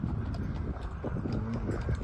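Horse hooves pulling a carriage, a steady near clip-clop rhythm of repeated strikes on pavement, continuous and fairly loud over street background.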